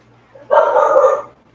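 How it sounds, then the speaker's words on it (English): A neighbour's dog outside an apartment door lets out one loud, drawn-out bark lasting under a second, close by, in an otherwise quiet room. "And my neighbor's dog again."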